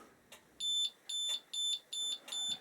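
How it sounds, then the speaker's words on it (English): A Honda ST1100A motorcycle alarm sounds a loud, steady run of high electronic beeps, pulsing on and off in even bursts about every half second, with no talking over it. "In comes the alarm."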